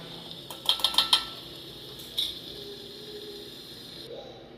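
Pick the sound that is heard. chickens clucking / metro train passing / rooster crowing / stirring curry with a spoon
stirring curry with a spoon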